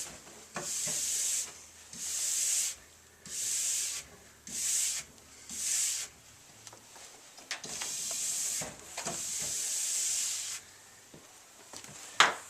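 A stiff, fine-bristle brush scrubbing the base of a cross country ski in short back-and-forth bursts of dry hissing, close up, separated by brief pauses, then two longer strokes.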